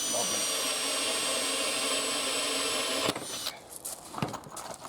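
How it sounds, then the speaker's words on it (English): A Bosch 4.5 mm drill bit bores through composite boarding on a metal driveway gate, giving a loud, steady whining drone that cuts off after about three seconds and leaves scattered clicks and handling noises. "I've got a lovely sharp Bosch drill bit"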